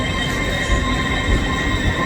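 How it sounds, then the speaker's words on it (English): A GWR train pulls out of a station with a loud, steady rumble of wheels on rails and a continuous broadband roar that stays close throughout. "GWR leaves the building"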